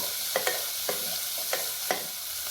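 Finely chopped onions frying in a pan until golden, a soft continuous sizzle broken by four or five sharp scrapes of a spoon stirring at an uneven pace, no voices.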